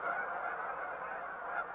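A flock of Canada geese at Horicon honk continuously, a dense, fairly distant chorus of overlapping calls with no voices.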